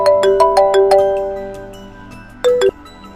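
A mobile phone ringtone for an incoming call plays alone at close range, a melodic series of bright plucked notes, then a short pause before another brief burst of the tune near the end.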